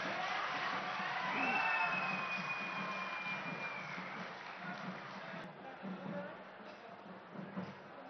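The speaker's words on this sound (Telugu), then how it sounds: "గట్టిగా చప్పట్లు కొట్టి." A crowd at a foundation-stone ceremony attended by a chief minister claps and cheers, loud at first and then thinning, with scattered whoops and a faint tone drifting over the noise.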